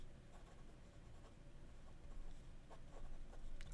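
Fountain pen nib gliding across paper in a faint, continuous scratching with small rhythmic strokes, heard very close and quiet with no talking.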